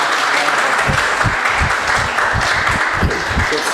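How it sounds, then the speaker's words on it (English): A live broadcast audience gives a round of applause, loud, close clapping with a rhythmic pulse of beats, steady throughout the short stretch. "Let's give her a round of applause."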